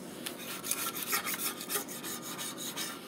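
Razor blade in a holder scraping old gasket residue off a Ford 7.5 or 8.8 differential cover on a Mustang, a close, continuous raspy rubbing with quick repeated strokes and no talk.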